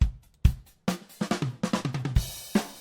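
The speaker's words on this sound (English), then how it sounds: "so we've got a drum beat complete." A sparse drum pattern with punchy low kicks and snappy hits, building into a quicker run of repeated beats near the end, played alone.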